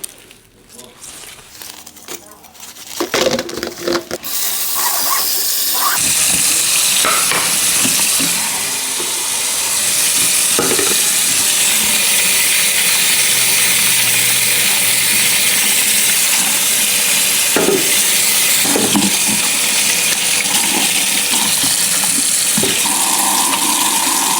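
Potatoes scrubbed under running tap water for a shrimp boil, a loud continuous splashing rush of water with rubbing and crinkling handling noises, someone talking at times.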